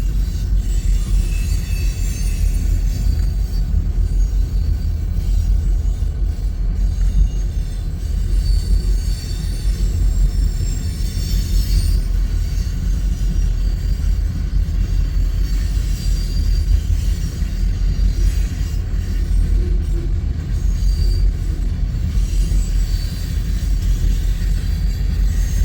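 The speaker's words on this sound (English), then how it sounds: "Nice big eastbound loaded coal drag." A long, heavily loaded eastbound coal freight train rolls past close by with a steady, loud low rumble of wagons and faint squealing of wheels throughout, and no voices.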